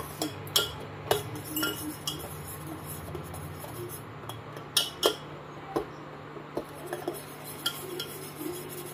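A utensil stirs a caramel-flavoured ice cream mixture, scraping and clinking against the bowl in irregular strokes, mostly quiet with sharper knocks scattered throughout.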